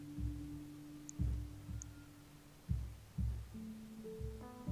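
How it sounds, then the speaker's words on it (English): Heartbeat in the video game Mutazione: slow, soft low thumps in pairs, repeating about every second and a half beneath a faint droning hum, with no voices. "I can hear a heartbeat."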